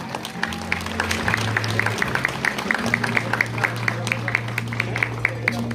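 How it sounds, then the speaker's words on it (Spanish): Audience applause at a school graduation ceremony for ninth grade and final-year students in Paraguay, a steady wash of many hands clapping, fairly close, with a low sustained tone of music or hum underneath. "El aplauso correspondiente."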